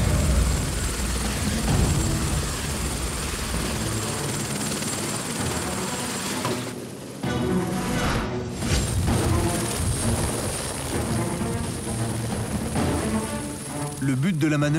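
A helicopter flies overhead during a firefighter training exercise in Provence in summer, its steady loud rotor and engine roar continuing throughout with a brief dip midway. Voices can be heard under the noise.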